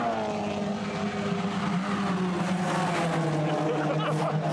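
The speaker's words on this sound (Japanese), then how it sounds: "そんなことはつゆ知らず、全開走行を続けるアキラ。" A race car with a Toyota 4A-G engine runs flat out on a circuit, its engine droning loud and continuous, pitch shifting gradually as it holds full throttle.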